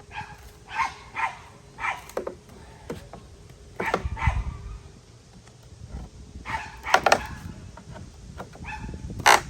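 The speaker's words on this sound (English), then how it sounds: "The squirrels are giving the dogs grief, Mr. Martin." Dogs bark in repeated bursts near a porch, with yips and whimpers between the louder barks, irregular and fairly close, with no talk over them.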